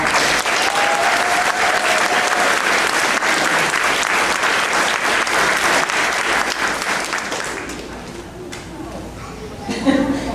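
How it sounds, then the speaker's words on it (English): Loud, dense audience applause fills a school awards and graduation ceremony, steady for about eight seconds before thinning into scattered claps and crowd murmur. "So let's give these girls a round of applause."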